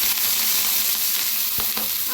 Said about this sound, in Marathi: नंतर त्याच्यावर असं पाणी शिपडायचं